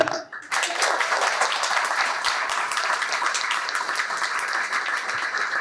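A lecture audience on ancient Indian history claps steadily and loudly, a dense wash of many hands sustained throughout after a brief quiet start.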